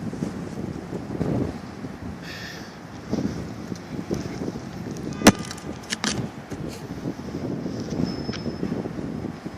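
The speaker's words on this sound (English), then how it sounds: "Wind got a little strong." Strong wind gusts outdoors, rumbling in a steady broadband roar with louder surges, plus a sharp knock midway.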